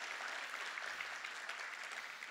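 Audience applause fills a company introduction seminar for a Malaysian Chinese-language Atomy presentation: dense, steady clapping from a crowd, moderately loud and unbroken for a couple of seconds, with no one talking over it.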